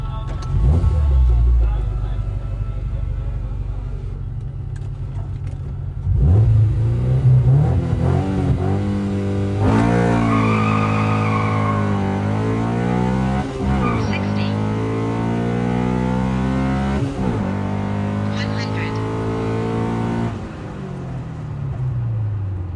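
A B20 VTEC drag racing car revs hard and accelerates through rising, sweeping gear pulls, loud and close with a steady roaring drone between shifts, after a brief low idle at the start.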